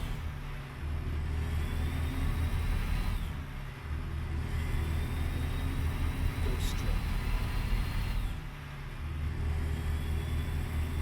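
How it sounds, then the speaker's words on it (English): A Freightliner FLD semi truck with a Mercedes-Benz MBE4000 diesel engine runs steadily and loudly up close, a deep continuous drone with brief dips in level as the load shifts. "The engine under the hood today is it's an MBE4000, and MBE stands for Mercedes-Benz Engine."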